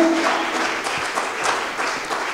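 Church congregation applauding to acclaim God during a French-language sermon, a dense, even patter of many hands clapping at close range.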